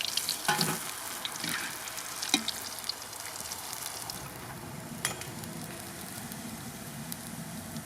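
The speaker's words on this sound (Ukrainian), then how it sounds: "Сарделічки обсмажилися, знімаю їх." Sausages frying in a pan outdoors, a soft continuous sizzle with a few sharper crackles and clinks of utensils early on, fairly quiet and without talk.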